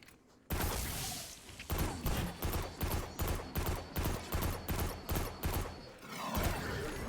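Breachlight, a Sundial kinetic sidearm in Destiny 2, firing a rapid burst of about a dozen evenly spaced, sharp, loud shots after a short opening noise, with no talking.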